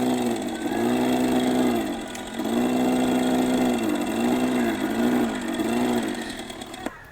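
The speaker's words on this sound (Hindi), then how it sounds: "this is the artificial exhaust just for the feeling of एक कोई स्कूटर व्हीकल जा रहा है" The artificial exhaust sound of an OLA S1 Pro electric scooter, a loud synthetic engine-like drone heard up close that rises and falls in repeated revving swells before cutting off.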